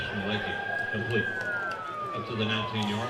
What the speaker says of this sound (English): Another ambulance going by here in Cullowhee tonight.